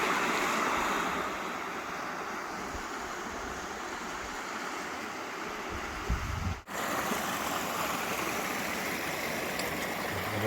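Small burn in Glen Feshie in the Scottish Highlands, flowing in a continuous broad rushing wash, close and steady, with a brief knock and dropout partway through.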